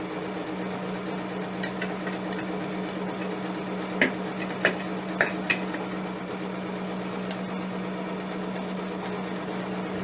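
A sewing machine stitches a buttonhole on a criss-cross jumper, giving a steady, even motor hum with a few sharp clicks partway through, close and moderately quiet.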